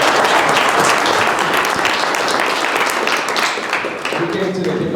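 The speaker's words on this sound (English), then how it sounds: "Let's give another round of applause." A round of audience applause at an AI engineering meetup in Birmingham, loud and dense at first and then thinning slightly, with some voices murmuring underneath.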